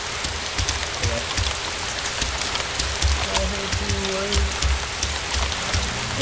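Steady rain falls in the video game DayZ, a dense, even hiss of drops on surfaces filling the whole stretch, with faint low rumbles and brief voice-like traces underneath.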